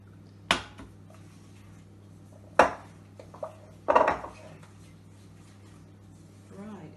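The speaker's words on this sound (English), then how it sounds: "I'm going to pour in my melted butter into the sugar and just mix that a little bit" Utensil scraping and clinking against a bowl as melted butter is mixed into sugar, a few sharp knocks and a short stir, close and fairly quiet, with a low steady hum beneath.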